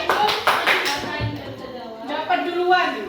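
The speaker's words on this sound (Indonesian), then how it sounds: "Tepuk tangan untuk Ainun, tepuk tangan" Schoolchildren in a classroom clapping for a classmate, a short burst of hand claps at the start under a teacher's speech, with talking continuing afterward.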